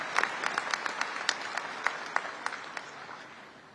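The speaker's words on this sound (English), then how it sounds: "Let's give these individuals a round of applause as well." A short round of applause at a high school graduation for teachers, scattered individual claps standing out over a thin crowd patter that fades toward the end.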